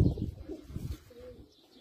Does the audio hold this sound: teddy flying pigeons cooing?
yes